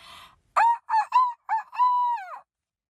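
A voice imitates a rooster crowing, a few short rising bursts and then one long drawn-out call, loud and close.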